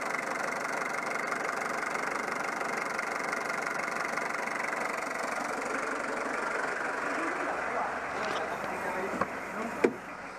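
A Peugeot 309 with an XU diesel engine idles in a steady, even rumble with a faint ticking texture, while a voice speaks over it and a couple of sharp knocks come near the end.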